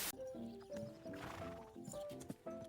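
A horse in a video game whinnies and neighs repeatedly over steady clip-clopping hooves, fairly close and alone without talk.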